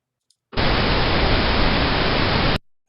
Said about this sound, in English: We're going to look at some background pink noise just as a reference.